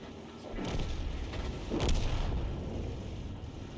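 A leFH18B2 self-propelled artillery gun in a tank video game fires, producing a heavy booming shot and a second rolling blast over a constant low mechanical rumble.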